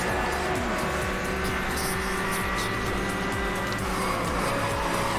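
Porsche in Need for Speed Hot Pursuit, a dense engine roar with rapid rhythmic pulsing and brief scraping tire noise, loud and continuous throughout the attempted handbrake turn.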